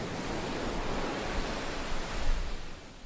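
Waves crash against a coastline in a broad, continuous roar of surf, loud and unbroken with a slight swell and fade toward the end.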